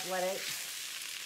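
Ground beef frying in a pan gives a soft, steady hiss and sizzle that carries on quietly after a brief spoken word at the start.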